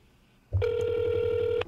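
A telephone ringing through a speakerphone call, a single sustained electronic ring tone, loud and close, starting abruptly after a brief quiet moment.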